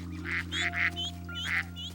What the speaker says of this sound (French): La canne, la maman canard, veut s'assurer que ses canetons ne s'éloignent pas trop.